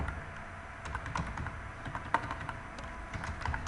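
Rapid, uneven keystrokes on a computer keyboard while Python code is written, close and clear, with small sharp clicks and no speech.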